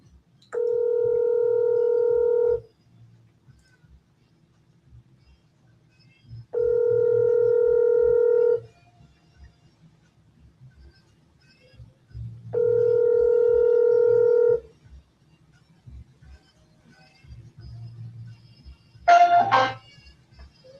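A phone ringback tone sounds three times as steady, loud two-second tones spaced about four seconds apart, with faint background hum between rings and a short electronic chirp near the end; no one talks.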